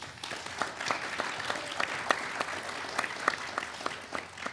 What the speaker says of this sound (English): Let's give our teams a big round of applause again.